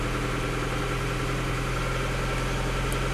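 A Honda Civic EJ9 fitted with a flex-fuel kit idles steadily after starting, a constant low engine hum and vibration, close and unbroken, with no talk.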